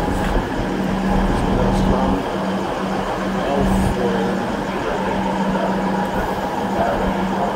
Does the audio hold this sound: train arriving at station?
yes